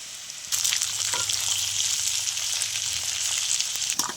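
Chicken, beans, carrots, peas and capsicum are stir-fried for fried rice. After a quiet half second, a loud, close, steady sizzle bursts in and holds, broken by occasional stirring scrapes.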